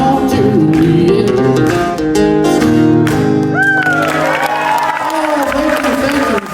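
An audience claps and cheers at the Nashville Star finale after a country performance of a song, the crowd noise mixed under the song's loud lingering music and a sung voice.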